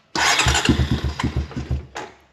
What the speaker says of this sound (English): Let's go ahead and give it some choke. Fire it up.